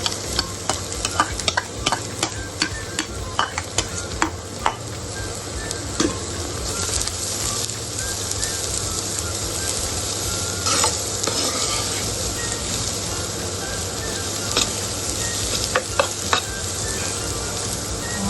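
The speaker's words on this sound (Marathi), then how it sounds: "कांदा आपल्याला लालसर होईपर्यंत असं भाजून घ्यायचं आहे." Chopped onions frying in oil until reddish, a loud continuous sizzle with frequent sharp spoon scrapes and clicks against the pan, close by and sustained for a long stretch without voices.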